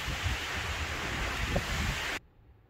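Loud, blustery wind roars across the microphone, then cuts off abruptly into near quiet.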